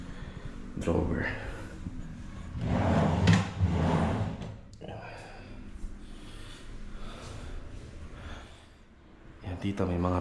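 A drawer slides open or shut once with a short scrape in a newly built townhouse at a housing project. Close breathing and talk are heard around it.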